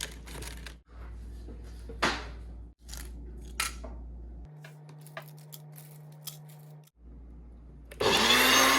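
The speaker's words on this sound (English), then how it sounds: "put them in the NutriBullet and grind them up" A NutriBullet blender grinding dried zucchini into powder, starting and stopping in short bursts of rattling pulses, then a steadier whir, ending with a loud harsh roar.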